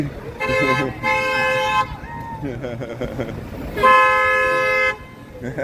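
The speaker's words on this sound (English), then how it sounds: "here comes this bus here" A city bus rolls past on Oak Street in Chicago amid busy traffic, with two long, loud harmonic horn blasts close by, and the street din carries on between them.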